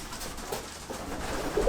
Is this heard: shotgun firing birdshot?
no